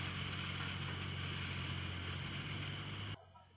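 A small robotic rover drives down a street, its motor giving a steady, fairly loud droning hum with a low tonal whine that holds for about three seconds before cutting off abruptly into near silence.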